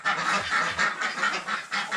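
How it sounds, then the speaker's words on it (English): A wild turkey calls outdoors, a string of loud, close, repeated honking gobbles running through the whole stretch, alone with no talk. "How the hell is there still a turkey out there?"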